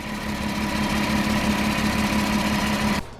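Porsche Cayenne engine idling smoothly in a close, steady hum with an even low-pitched drone and faint whine, no voices, cutting off abruptly just before the end.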